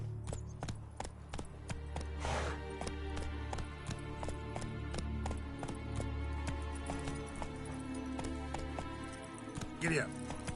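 Horse galloping in The Witcher 3, a steady fast clip-clop of hooves running continuously under game music and a voice talking throughout.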